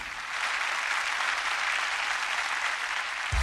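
Roaring applause fills a scene in the video game If My Heart Had Wings, a steady dense wash of clapping from a crowd that holds at an even level throughout.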